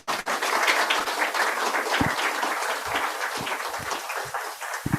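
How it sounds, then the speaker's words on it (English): A seminar audience gives a round of applause, with continuous, even clapping that holds steady for several seconds and stays fairly close. "So please give her a big round of applause."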